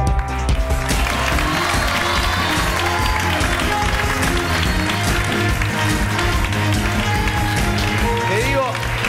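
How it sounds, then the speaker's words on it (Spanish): Studio audience applause on a Spanish-language TV game show, steady dense clapping throughout with a loud, constant crowd roar and some background music. "Hasta los aplausos a medias ahí"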